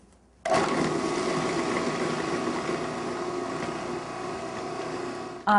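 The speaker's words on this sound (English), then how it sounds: "you put them in the food processor along with garlic, and then you blend that as much as you can" Food processor blending red beans with garlic: a loud, steady motor whir starts abruptly and runs continuously for about five seconds, with no talking.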